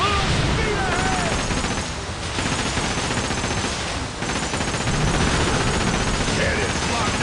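Rapid, dense ship cannon fire booming from a pirate ship in the video game Like a Dragon: Pirate Yakuza, a loud, sustained barrage with two brief lulls, under an energetic game soundtrack.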